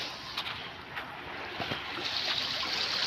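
Water runs steadily in a rain-swollen stream, a constant broadband rush with faint wind noise and a few brief knocks, moderately close and with no voices.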